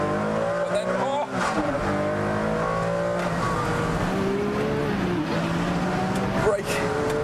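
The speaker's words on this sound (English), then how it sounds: "That blip, you'll feel the rear end squirm a bit if you change down too early." A Ferrari Enzo's V12 revs hard on track, sharp throttle blips rising and falling on downshifts, with tire squeal in places and someone talking over the constant engine roar.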